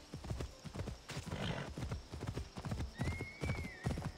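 A horse's hooves clip-clop in a steady trotting rhythm in the video game Assassin's Creed Odyssey, fairly close and continuous, with a brief whinny partway through.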